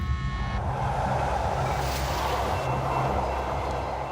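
Trains rolling on railway tracks around California, a steady continuous rumble with low rail hum and faint wheel noise throughout, no voices.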